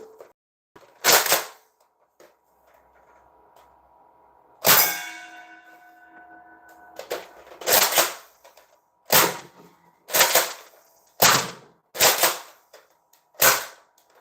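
Toy Nerf-style guns firing, a series of sharp snapping shots spaced a second or so apart, loud and close, with a ringing metallic clang partway through.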